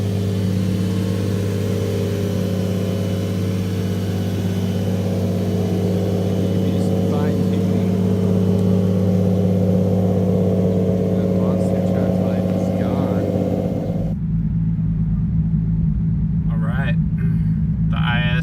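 A turbocharged Lexus IS 300 on freshly fitted BC Racing coilovers drives with a steady, droning engine hum. The hum holds even and loud, then drops away abruptly near the end.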